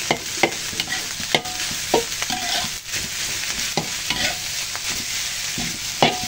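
Fried rice with dried chili, salt and garlic powder being stirred in a hot pan: a continuous loud sizzle broken by repeated sharp spatula scrapes and knocks at an uneven rhythm.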